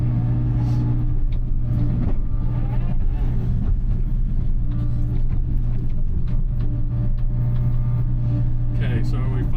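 A Kubota KX057-5 excavator digging a water hole in a food plot, a steady loud diesel rumble with a droning hum and scraping clunks, with a voice talking over it.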